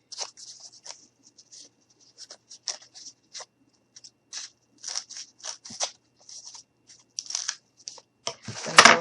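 Scissors cutting craft material for a gnome bed, a series of close, crisp snips and rustles in short irregular bursts, growing louder and denser toward the end.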